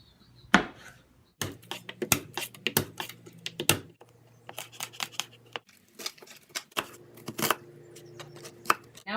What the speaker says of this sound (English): Chop your tomatoes in half.